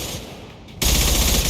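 Sustained rapid gunfire from the video game Mass Effect Legendary Edition erupts loud and dense after a quieter stretch, continuing steadily to the end.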